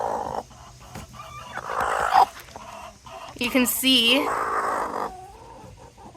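Cornflower, a broody hen, makes small fussy clucks and murmurs at close range. The short, uneven calls come in scattered bursts, and a person talks intermittently over them.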